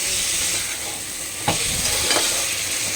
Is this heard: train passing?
no